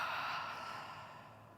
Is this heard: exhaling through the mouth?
yes